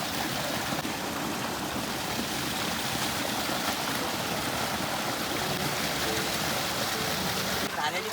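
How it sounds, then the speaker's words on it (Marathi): A small waterfall fed by a mountain stream in village forest country pours with a steady, close, full rushing wash of falling water that runs unbroken from start to finish. "आपला छोटा वॉटरफॉल वरतून पूर्ण झऱ्याचं येणारं पाणी आहे."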